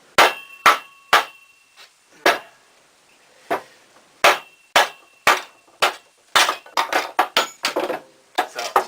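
Sharp, irregular knocks of a blade being hammered through wood to baton it along saw cuts while carving salad servers, about a dozen distinct close strikes with short gaps, speeding into a quicker cluster toward the end.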